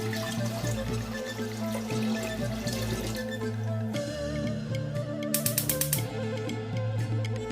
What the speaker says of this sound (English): in a large pot, add enough water to cover the chicken